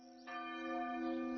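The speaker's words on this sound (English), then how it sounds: "we saw a priest tolling the bell in the local church" A priest tolls the bell of a local church on Spetses, Greece, heard from a hotel balcony above: a sustained, resonant ringing with steady overtones that swells slightly partway through and carries on without any talk.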